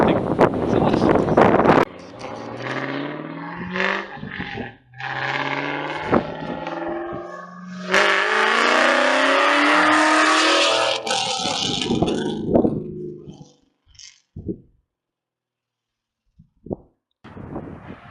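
Cobra car fitted with a new exhaust, driving and revving with loud, sustained engine noise and wind rushing past, rising in pitch through acceleration before fading to near silence with a few faint knocks.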